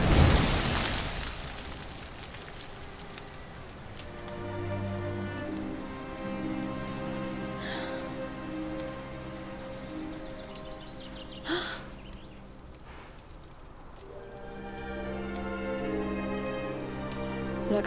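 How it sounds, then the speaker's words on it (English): Steady rain falls in the video game Dragon Quest XI, a continuous patter on surfaces under a soft musical background, with a couple of brief louder splashes. "Looks like the rain's dying down."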